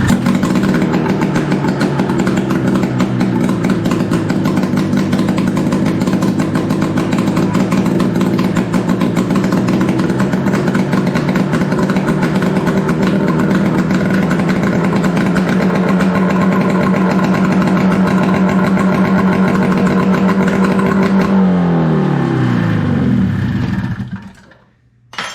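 A 1971 Arctic Cat snowmobile engine, run after sitting for more than 15 years, roars loudly at a steady, close idle for about twenty seconds, then sputters and winds down to silence.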